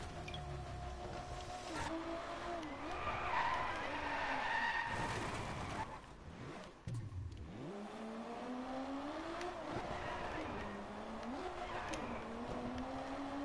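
Car skidding and drifting in the Driveclub racing video game: a sustained engine drone with sliding tyre squeal that rises and falls through repeated drifts, loud and continuous with a brief dip midway.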